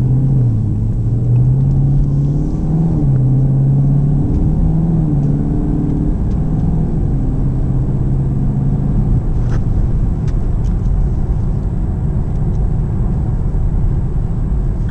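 Steady low V8 engine rumble and road noise from a 2016 Chevrolet Camaro SS cruising at a constant 50 mph, loud and unbroken throughout.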